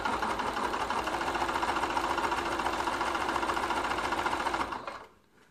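A sewing machine runs steadily and loudly, stitching binding down a large quilt-as-you-go quilt, a dense continuous whir for nearly five seconds before stopping abruptly into quiet.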